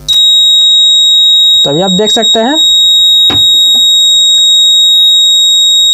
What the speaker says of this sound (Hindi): ये बजर भी जो है कि पूरा ऑन हो गया है